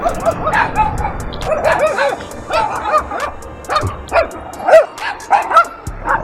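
Several small dogs yapping and barking in quick overlapping bursts, with some whimpering, fairly loud and close, amid a busy, noisy background.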